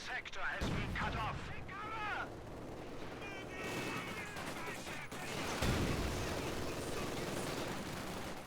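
Squads of Grenadiers, Panzergrenadiers and a flamethrower unit fire on a captured machine gun in a Company of Heroes 2 battle, with dense overlapping rifle and machine-gun bursts and heavy booms throughout, under a speaking voice.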